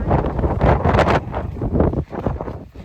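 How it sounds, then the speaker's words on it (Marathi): Loud gusts of wind buffet a phone microphone at Raigad fort, roaring and rumbling in uneven bursts close up, with no other sounds. "ह्या वाऱ्याने एवढं परेशान करून ठेवलंय ना या वाऱ्याने"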